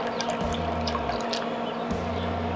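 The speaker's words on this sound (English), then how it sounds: "we're going in with equal parts apple cider vinegar and water" Apple cider vinegar and water pour into a spray bottle to mix a baste for smoked ribs, giving two short splashing pours close up with a brief gap between them.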